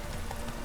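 Hooves of Roach, the horse in The Witcher 3, clop in a quick, brief burst at moderate level, with no talking.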